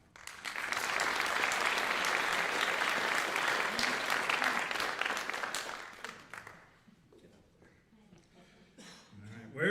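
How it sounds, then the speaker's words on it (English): Graduation ceremony audience applauding a diploma recipient, a full steady round of clapping for about six seconds that then drops away to quiet room noise with a few scattered claps and a bump at the end. "Please give AJ Schaefer-Jarvie a round of applause as he comes up to accept his diploma."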